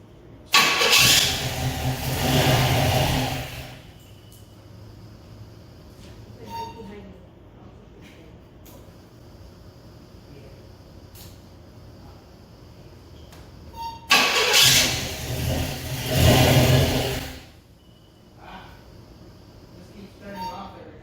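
A 1966 Pontiac Catalina wagon engine cranks and catches twice, each start a loud burst of revving lasting a few seconds and then dropping off, with quieter clicks and shop noise between the two starts.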